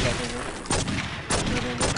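Gunfire in the video game True Crime: New York, three sharp bursts of shots spaced roughly half a second apart, loud and close, with game audio and a voice underneath.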